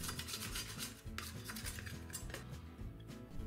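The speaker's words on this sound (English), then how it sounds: "make sure you scrape off any flour that's still stuck to the bowl" A utensil scrapes flour and bread dough from a mixing bowl, a continuous rasping, rubbing scrape with small knocks against the bowl, close and fairly loud, with no voices.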